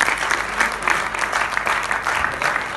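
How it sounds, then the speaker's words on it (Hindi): An audience at a tribute evening breaks into steady, dense applause that holds at an even level from start to finish, with no speech over it. "आपकी तालियां हो जानी चाहिए।"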